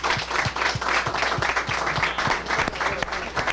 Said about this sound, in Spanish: Vamos a darle un aplauso a...